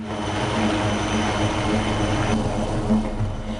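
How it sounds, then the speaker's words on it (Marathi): A military helicopter engine whirs in a continuous droning hum with a steady low rotor throb, close and loud throughout, with no speech. "या पायलटचा दिवस हेलिकॉप्टरच्या घरघर आवाजानेच सुरू होतो"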